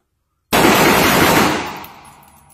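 A loud burst of automatic gunfire from a gun in Call of Duty: Cold War erupts after a moment of silence, sustained for about a second, then trails off in a fading echo.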